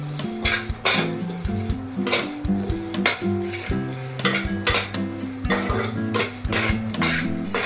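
Whole spices for Kolkata-style mutton biryani are stirred in a pot, a close, rhythmic run of metal spoon scrapes and clanks against the pan over a faint sizzle, with no talk.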